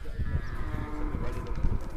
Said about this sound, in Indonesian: Ini ada jenis sapi Bali.